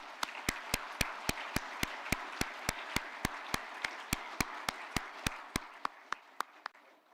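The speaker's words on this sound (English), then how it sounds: "So let's have a round of applause to the staff." Applause for the staff at a virtual graduation celebration: sharp, evenly spaced claps ring out at a steady, quick rhythm over a soft broadband wash, continuing alone for several seconds and thinning slightly at the end.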